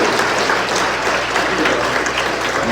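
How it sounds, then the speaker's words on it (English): A crowd at a CypherPunk 2023 conference talk breaks into dense, steady applause that keeps going throughout. "Round of applause for"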